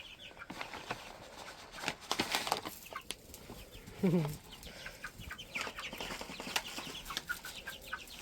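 Farm chickens cluck and squawk while being given treats, with scattered short calls, one louder squawk midway, and rustling and handling noises close by.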